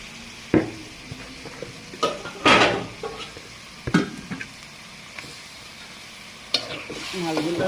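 Singi fish going into a pan of fried spices (cumin and ground spice) for a fish curry, with crisp sizzling and frying under several sharp clanks and scrapes of a spatula stirring against the pan.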